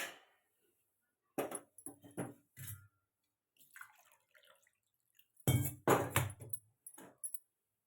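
Water is poured into a glass tumbler in two separate close pours, each with splashing and light glassy clinks, separated by quiet gaps.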